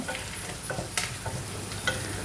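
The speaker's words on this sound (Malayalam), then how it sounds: "നന്നായിട്ട് ഇളക്കുക" Yellow school-style upma is stirred in a pan with ghee and coconut oil, giving a close, gentle sizzle with repeated scraping strokes of the spoon and no talking.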